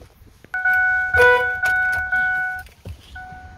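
A Ford F150 with its ignition switched on, giving a series of sharp electronic chimes, about four evenly spaced tones followed by a fainter one, close and clear with no talking.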